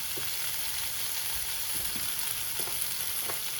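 Pieces of lamb fry in oil in a hot pan, giving a steady, close sizzle and crackle with a few faint stirring scrapes and no talking.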